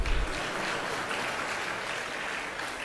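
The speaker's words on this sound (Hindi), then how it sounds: "और ये सब बहू बजा रही हैं ताली" An audience of women at a religious discourse clapping their hands, a dense, steady wash of applause sustained evenly for a few seconds.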